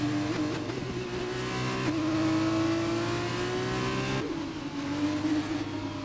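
F2 race cars overtake in a racing video game on the Italy circuit, their engines a loud, continuous high whine that climbs steadily in pitch, dropping briefly at gear changes before rising again.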